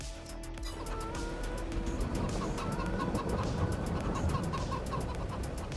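A single chicken clucks in Farming Simulator 22, steady soft clucks repeating over a constant low farm-machinery hum, moderately quiet and close.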